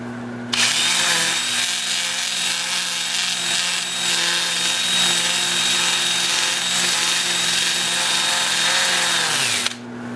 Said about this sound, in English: Then I'll change to my 2-inch sanding disc, starting at 80 grit and working up through 400 grit.